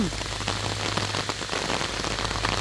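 Rain falls on dry ground in a field of sunn hemp flowers, a steady, dense patter close by over a low constant hum, with no talk.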